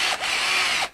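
A FISCH demolition hammer, the chiseling power tool used to break up walls, runs in a short, loud burst of dense, rapid hammering that starts and stops abruptly, close by and without speech.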